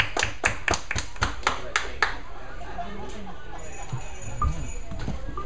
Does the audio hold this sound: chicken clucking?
no